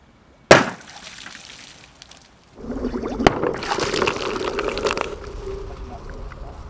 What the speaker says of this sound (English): when the tube breaks,